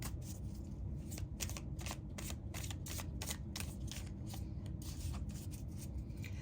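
Tarot cards shuffled and drawn up close, a steady run of soft riffling flicks and papery slaps repeating quickly and evenly throughout, fairly quiet with no voices.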